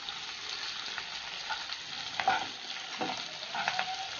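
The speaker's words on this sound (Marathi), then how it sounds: "कढीपत्ता आपला छान असा तळतळत आहे" Curry leaves fry in hot oil with a continuous crackling sizzle, close and moderately loud, with a few sharper pops and stirring scrapes and no talking.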